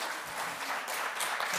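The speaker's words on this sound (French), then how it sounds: "Merci d'applaudir Gonéry Le Causanais" Audience applause at a talk on French coasts and Polynesia, a short dense burst of clapping that holds steady and fairly loud throughout.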